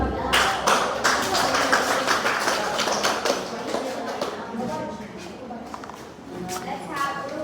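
Audience applause at a group presentation event, a dense steady patter of many hands clapping throughout, moderately loud and near, with faint voices underneath.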